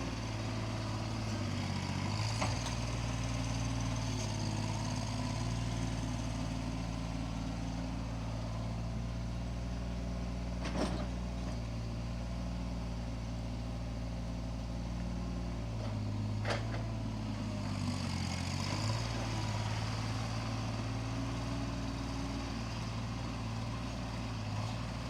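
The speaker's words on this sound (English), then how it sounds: "we'll start skid steer up, get us loaded up" A skid steer engine running steadily, a loud continuous low rumble with slight shifts in pitch and a couple of faint knocks, close by and without talking.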